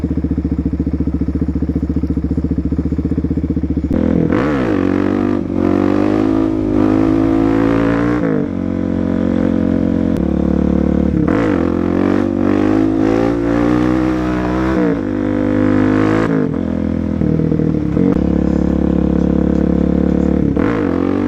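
A Suzuki DRZ motorcycle engine revs repeatedly from a loud, close idle, each blip rising and falling in pitch, with no talking.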